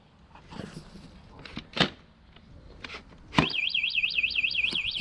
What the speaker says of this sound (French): ce vélo est équipé d'une alarme qu'on peut bien sûr désactiver avec la télécommande